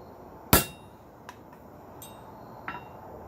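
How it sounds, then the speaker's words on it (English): One sharp soft-face hammer strike on a metal center punch, followed by a few faint light taps in a quiet room. "I like to use a soft face hammer for punching,"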